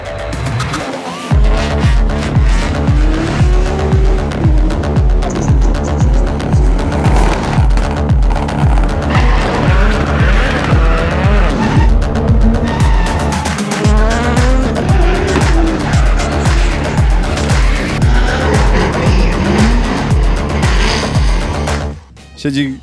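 Cars drift through a gymkhana free practice session, engines revving hard with repeated loud tire squeals and skids close by, the roar continuous for over twenty seconds while people talk faintly in the background.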